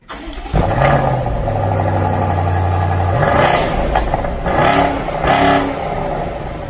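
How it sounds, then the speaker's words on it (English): A BMW 8 Series starts up close by, its engine catching with a sharp flare and settling into a steady idle, followed by two quick revs of the exhaust that rise and fall before the engine returns to idle. "turning on the new 8 Series, and specifically the exhaust note, which sounds surprisingly good"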